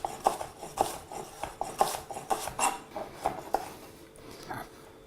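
A knife finely chopping a shallot for crab cakes, giving a quick run of crisp, evenly spaced taps on a cutting board up close, slowing and fading near the end with no talking.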